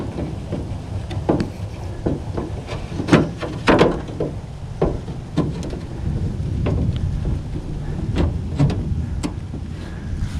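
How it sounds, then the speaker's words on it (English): Thunder rumbling from an approaching heavy storm, with repeated low crackles and claps over steady rain and wind noise, loud and continuous throughout. "we are about to get a pretty heavy storm."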